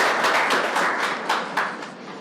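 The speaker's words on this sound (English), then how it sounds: "Give a huge round of applause for all the esteemed and distinguished guests." An audience applauds panel guests at a youth discussion event, with steady, dense clapping that fills the room and swells briefly near the end.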